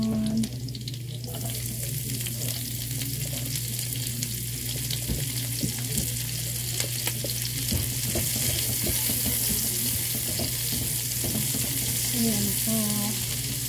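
Onion goes into a pan of golden garlic frying in pork fat, a continuous busy sizzle with spatters and occasional stirring clatter, steady and close for the whole stretch.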